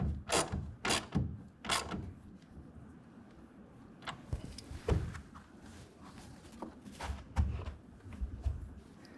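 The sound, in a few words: ratchet tightening tonneau cover front clamp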